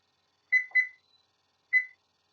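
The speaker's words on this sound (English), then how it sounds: "on the oven here, I'm going to set an alarm or timer for 2 hours" An oven timer gives three short electronic beeps as it is set, two close together and then one more after a pause, clear against a silent kitchen.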